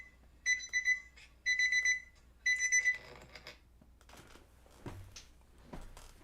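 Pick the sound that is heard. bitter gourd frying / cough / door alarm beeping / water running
door alarm beeping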